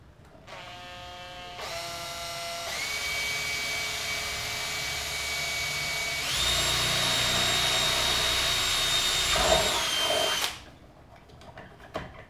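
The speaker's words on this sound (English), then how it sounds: "when I'm drilling plastic and stuff, I'm not driving it in, you know, I'm at half speed" A Makita power drill with an 8mm bit whines steadily at half speed for several seconds, shifting pitch as it bores through plastic, then winds down and stops.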